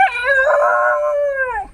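A dog lets out one sustained, wavering howl close by, rising and then holding steady for nearly two seconds before tailing off, with no barking and no voices.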